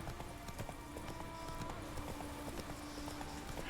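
Roach the horse galloping in The Witcher III: Wild Hunt, a steady rapid clip-clop of hooves running continuously at even loudness with faint background game audio.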